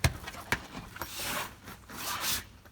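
Camper van fly screens being rolled and clipped into place, a few sharp clicks followed by soft zipping and rubbing sweeps, close and quiet.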